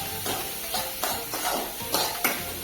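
Chopped garlic fries in a pan for a homemade mac and cheese white sauce, with a steady sizzle broken by about six rhythmic scrapes of a spatula, close and alone.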